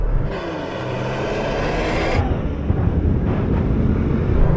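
Cars race and accelerate hard, engines roaring loudly and steadily with a harsh, wind-buffeted rush; one engine note drops away partway through while the roar continues, with no talking.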